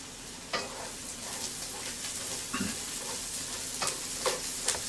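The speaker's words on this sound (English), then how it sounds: "So we're just letting these brown up a little bit." Chicken wings for Buffalo hot wings sizzle steadily as they brown in a pan, a continuous close frying hiss with a few sharp pops and clinks scattered through, no talking.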